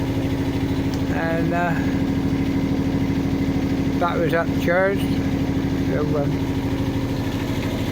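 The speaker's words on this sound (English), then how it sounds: "we thought we'd run the engine up" A boat's engine idles after two months unused, a steady, loud mid-pitched drone running throughout while people talk over it.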